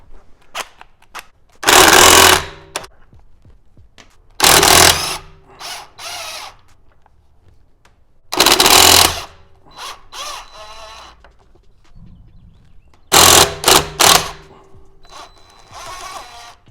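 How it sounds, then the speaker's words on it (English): An impact wrench with a 1/2-inch drive and 17 mm protective socket removes wheel lug bolts on a BMW M340i, firing in four loud, rattling bursts of about a second each, with softer mechanical clatter and clicks between them. "using a protective socket, 1/2-inch drive impact drill"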